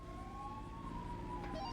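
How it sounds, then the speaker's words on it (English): A wailing emergency siren in a video game sounds at a moderate distance, its pitch sweeping slowly up and down over a low rumbling background. "can you fly by the tower and tell me if you can hear the sirens?"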